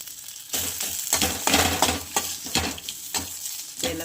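Grated coconut and onion roasting in hot oil in a pan, with a steady sizzle broken by repeated scraping stirs of a spoon against the metal, close and fairly loud.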